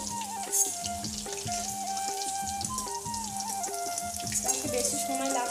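Small chicken pieces fry in oil for chili chicken, a moderate, steady sizzle and patter heard beneath tonal background music.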